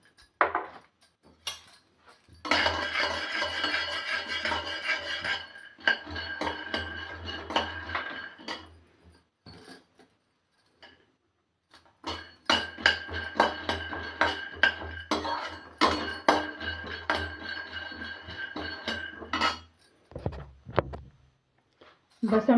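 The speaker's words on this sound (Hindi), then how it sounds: "सबसे पहले हम गैस जला के ये मूंगफली को भून लेंगे" Peanuts are dry-roasted and stirred in a pan without oil or ghee, two long bursts of rattling, clinking tumble against the metal separated by quieter gaps, with a voice talking at times.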